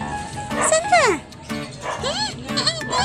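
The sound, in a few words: dogs barking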